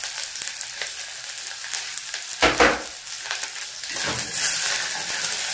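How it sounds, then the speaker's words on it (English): Omena fish frying in a pan over low heat with a little salt, giving a steady close sizzle and crackle, briefly broken by louder stirring scrapes. "We are going now to fry omena on a low heat until it turns golden brown"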